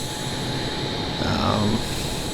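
F/A-18F Super Hornet jet engines in a flight video game, throttled back low while nearly out of fuel: a steady, continuous broadband roar with a thin high whine, swelling slightly toward the end.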